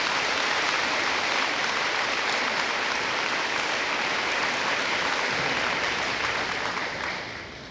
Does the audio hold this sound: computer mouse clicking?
no